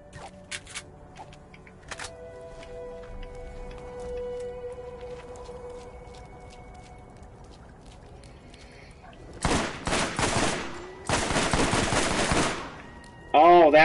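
Assault rifle fire in Borderlands comes in two loud rapid bursts near the end, following a stretch of quiet game sounds and small clicks.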